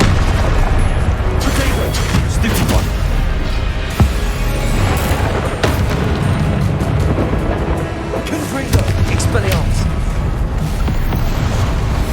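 Confringo spell explosions in Hogwarts Legacy during combat, a dense, loud barrage of booming blasts and rumbling impacts that runs almost without break, with cast shouts mixed in.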